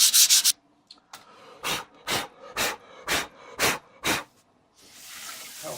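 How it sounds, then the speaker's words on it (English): Emery paper of 60 or 80 grit rubs across a garden railway bridge kit part, six regular rasping strokes in a steady rhythm after a quick opening flurry, close and clear with no talk. "we need a bit of emery. In my case, a 60 or 80 grit, and just need to gently"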